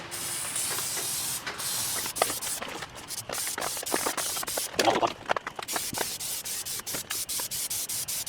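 Aerosol can of Plasti-Dip rubber coating sprayed onto a doghouse, a close, steady hiss broken into short bursts with brief pauses.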